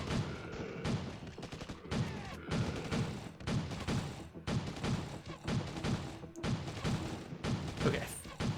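Rapid bursts of turret gunfire in the State of Survival video game, repeated shots and thuds sounding steadily throughout at moderate level with a faint voice now and then.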